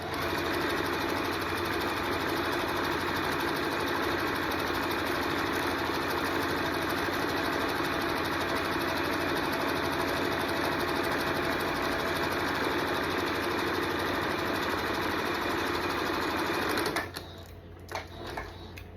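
A sewing machine stitches the last side of a reversible tote bag, a steady close whirring hum running unbroken for about seventeen seconds before stopping, with a few small handling noises after.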